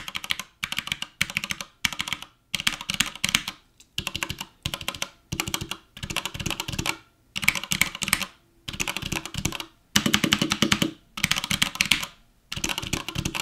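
Fast typing on a Dirt God Hades mechanical keyboard with Cherry MX Red switches: close, crisp keystroke clatter in dense bursts separated by short pauses, with no voices.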